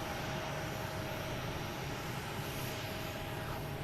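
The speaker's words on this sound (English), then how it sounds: "Next to arrives American Airlines, A321 Neo coming in from Phoenix." American Airlines Airbus A321neo arriving at Boston Logan from Phoenix, a steady broadband jet engine roar with a faint tonal whine, distant and even throughout with no talk.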